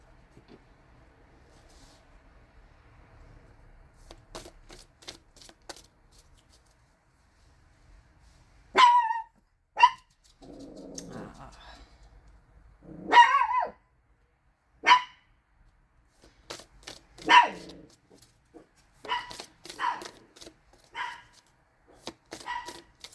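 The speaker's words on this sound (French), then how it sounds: "Il fait beau, la porte est ouverte, donc forcément, les aboiements sont de retour." Dogs barking outside, heard through an open door on a fine day, sharp separate barks and yips in irregular bursts, some louder and nearer, scattered between quiet gaps with a brief whimpering stretch.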